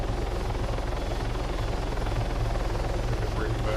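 Helicopter rotor and engine drone from an in-flight sequence in the video game ARMA 3, a steady, loud, continuous hum with faint rhythmic rotor chop throughout.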